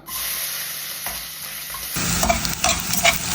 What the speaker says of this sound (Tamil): கருவேப்பிலையை வந்து பொட பொடன்னு பொரிஞ்சிட்டு இப்போ வந்து பால் ஆனியனை போடலாம்